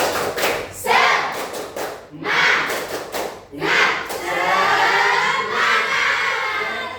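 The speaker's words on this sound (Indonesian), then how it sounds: "Ayo, tepuk semangat." Schoolchildren in a classroom do a rhythmic "tepuk semangat" clapping chant in loud bursts of patterned claps, with the children's shouting voices joining in and swelling into a sustained group cry.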